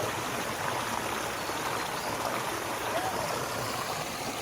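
A continuous rush of flowing water at Wang Takrai Waterfall in Thailand, steady and fairly loud, with low water levels and no speech over it.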